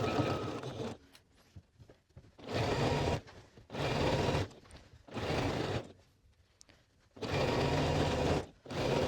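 A sewing machine stitches ribbing onto a Kimball bomber jacket in five loud, close bursts of rapid mechanical whirring with brief quiet gaps between them.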